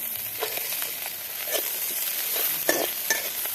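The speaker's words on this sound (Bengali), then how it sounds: "এই কয়েকটা ধুরো মাছ টাললাম, দিয়ে দিলাম পেঁয়াজ রসুন শুকনো মরিচ।" A few small fish fry in oil with onion, garlic and dried chili. A soft steady sizzle runs under repeated spatula scrapes and clinks against the pan.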